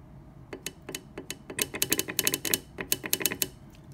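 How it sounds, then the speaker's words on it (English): Rapid mechanical clicks from the reversing-valve solenoid on a Toyota Prius Prime heat pump accumulator assembly, with one wire pulled off; a dozen-plus sharp ticks in irregular bursts, close and fairly loud, no talking. "This is going down to that solenoid. You could hear it click."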